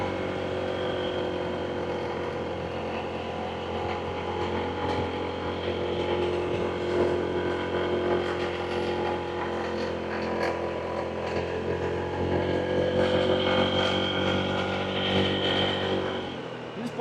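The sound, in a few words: Honda ADV160 scooter riding on dirt road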